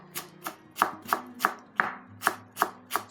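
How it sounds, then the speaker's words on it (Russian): A knife chops fresh cilantro on a cutting board in a home kitchen, with about nine crisp, evenly spaced thuds close by and nothing else heard. "Сюда же нарезаю зелень."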